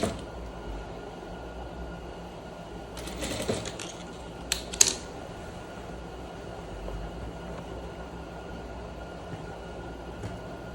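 A sewing machine stitches a trouser leg for pleated trousers, giving a quiet, steady whirring hum with a couple of brief, clattering bursts partway through.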